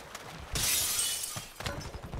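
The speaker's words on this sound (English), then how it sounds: "Hell yeah, break glass." Glass shatters loudly in a video game, a sudden bright crash that rings for about a second before fading, with lighter clatter and impacts on either side.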